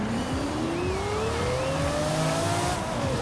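A Lamborghini accelerates hard in the video game Forza Horizon 5, its engine note climbing steadily through a loud continuous roar with a faint tire squeal over the top.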